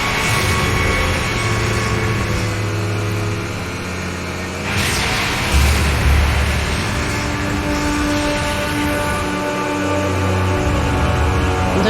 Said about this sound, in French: Pas très viril ce bruit de moteur.